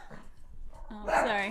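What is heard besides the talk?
dog barking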